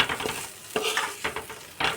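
A spoon stirs fried spices into a paste of poppy seed, yogurt and Kashmiri chilli, scraping in several separate strokes with a light sizzle and clatter against the container, close up, with no talking.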